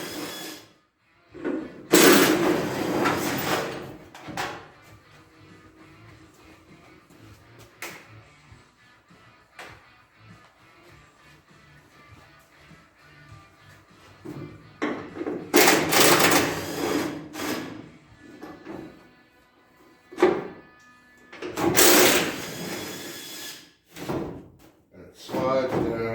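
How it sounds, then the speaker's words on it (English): Bolts being removed from a car trunk lid: intermittent metallic clanks and ratcheting bursts, several loud clusters separated by quieter stretches, with a person talking between them. "So all you're going to do is take these bolts out like this."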